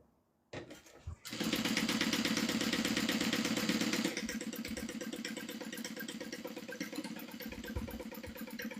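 A heavily modified sewing machine runs through two layers of cotton, starting with a couple of clicks and then settling into a loud, fast, steady mechanical chatter that continues without a break.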